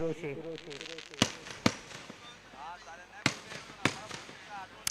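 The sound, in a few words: fireworks display at a cricket tournament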